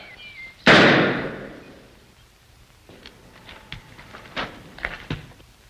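A rifle fires a single sharp, loud gunshot in an old Western radio drama, its blast decaying over about a second, followed by faint scattered knocks and footsteps.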